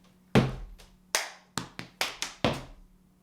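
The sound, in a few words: stomping and clapping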